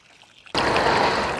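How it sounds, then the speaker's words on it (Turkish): Water gushes out during flood irrigation of seedlings. It starts suddenly after a brief quiet moment, then becomes a loud, steady rushing and splashing flow. "gördüğünüz gibi biz salma sulama şeklinde sulama gerçekleştiriyoruz"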